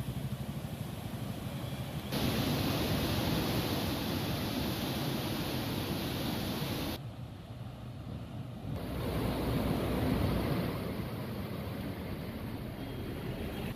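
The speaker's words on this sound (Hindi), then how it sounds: "एक तरफ डैम से पानी छोड़ा जा रहा है" Water rushes through the open gates of the Maithon and Panchet dams after heavy rain, a loud, continuous roar like surf with wind buffeting, broken by abrupt cuts between shots.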